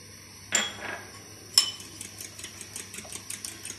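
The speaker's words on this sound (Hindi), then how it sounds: "और इसे अच्छे से मिक्स कर लूंगी." Eggs whisked with sugar and salt in a bowl give two louder clinks, then a run of quick, rhythmic metallic ticks close by, with no one talking.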